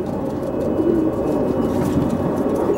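Pigeons coo steadily inside a home dovecote, a continuous low warbling murmur from several birds close by, with no speech.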